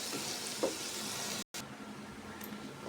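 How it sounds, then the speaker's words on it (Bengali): Pulao rice frying in a pan for shahi murg pulao, giving a steady, even sizzle that runs close and fairly loud throughout, broken by a brief drop to near silence midway. "আপনারা ঠিকই ভালো করেই জানেন যে কিভাবে পোলাও চালটা ভেজে নিতে হয়"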